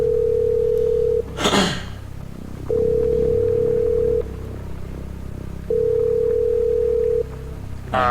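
Phone line tones in a video game while dialing 911 during a power outage: three long steady ringback tones, each about one and a half seconds, separated by pauses, with a brief noisy burst after the first and faint background hum.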